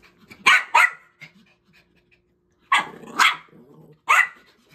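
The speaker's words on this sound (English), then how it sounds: "He been barking so long." A dog barks in loud, sharp bursts: a pair of close barks, a long pause with faint low noises, then two more and a final bark, near and clear with no talk over them.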